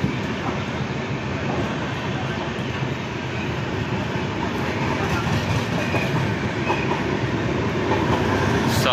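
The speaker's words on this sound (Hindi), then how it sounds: "ये भाई आनंद विहार टर्मिनल से हमारी ट्रेन डिपार्चर।" The Sapt Kranti SF Express rumbles steadily with rhythmic clickety-clack as it departs Anand Vihar Terminal, a loud continuous noise heard from on board.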